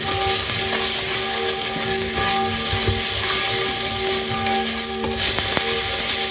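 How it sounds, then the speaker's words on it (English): Onions stir-fry in a pan with a loud, steady sizzle and occasional scraping stirs, while faint sustained ringing tones hum in the background. "I'm going to stir fry them for a minute or so until the onions become translucent"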